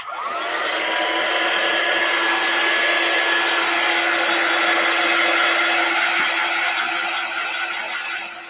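A hair dryer dries freshly stamped chalk paste on a craft project, a close, steady roar that holds evenly throughout and tapers off slightly at the end.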